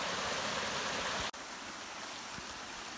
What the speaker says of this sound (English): Creek is just kind of running alongside.